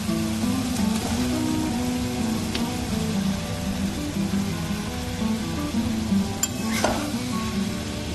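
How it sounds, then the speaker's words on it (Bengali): Fried potato and cauliflower pieces land in masala frying in a pan, bringing a loud, dense sizzle with stirring scrapes and a few sharper knocks near the end, no voices. "এবার আমরা এটা যে আলু ফুলকপিটা ভেজে রেখেছিলাম সেটা দিয়ে দিব।"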